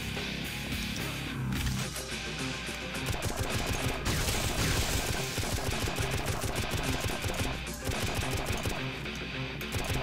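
Dense gunfire in the video game Painkiller, rapid repeated shots layered over a busy, loud game soundtrack, continuous throughout with no voice heard.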